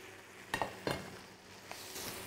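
Spinach hits foaming butter in a hot pan, with a soft sizzle running underneath and a few sharp clinks and scrapes of a utensil against the pan.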